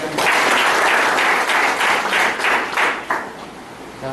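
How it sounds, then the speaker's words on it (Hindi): Seminar audience clapping in a hall at a BNI business event, a burst of dense applause that thins and fades toward the end. "राम प्रकाश सोनकर के लिए भी जबरदस्त ताली बजाएं"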